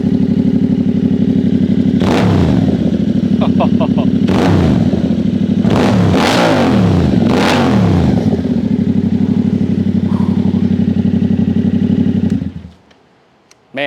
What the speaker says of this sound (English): I must say that CP2 engine sounds very nice